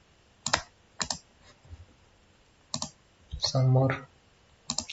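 Mouse and keyboard clicks while working in an Excel spreadsheet: a few sharp clicks in separate bursts, close and moderately loud, with a short spoken phrase partway through.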